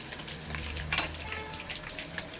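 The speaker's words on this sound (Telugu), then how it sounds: "కరివేపాకు కూడా వేసుకోవాలండి చాలా ఈ కరివేపాకుతో ఫ్రై అవుతా అంటే ఆ ఫ్లేవర్ చాలా బాగుంటుంది" Green chillies and curry leaves frying in oil with chicken 65, a steady close hiss and crackle of sizzling that is even and moderately quiet, with one brief louder pop.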